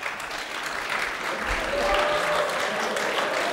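Studio audience applause on a French TV talk show, a sustained wash of clapping with a few voices faintly underneath.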